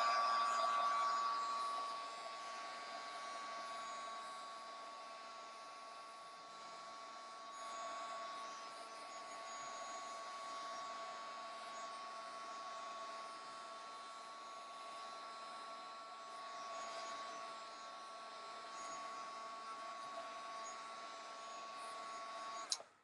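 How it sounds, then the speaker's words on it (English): A heat tool blows with a steady, even whir while setting a mixed media art journal page, running continuously at a moderate level with no talking over it. "But first I'm going to go ahead and heat set this."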